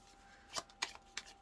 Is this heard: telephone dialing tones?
no